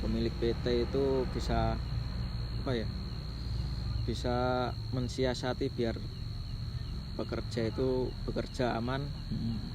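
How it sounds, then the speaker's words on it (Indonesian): Crickets chirp steadily and continuously near a construction project site, a constant thin trill under a man's conversational speech. "dan ini suara jangkrik kedengeran sekali."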